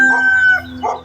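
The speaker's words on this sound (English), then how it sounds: "They got chickens." A chicken clucks and crows briefly nearby, with a couple of short vocal bursts.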